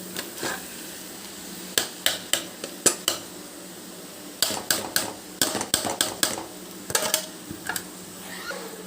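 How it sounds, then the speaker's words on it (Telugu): Spoon scraping and clanking against a pan while dwarf copper leaf fry is mixed with boiled moong dal, a series of sharp metallic taps and scrapes in bursts with short pauses, close and fairly loud. "పెసరపప్పును కూడా యాడ్ చేసేసాం కదా ఒకసారి కలిపేసుకుందాం"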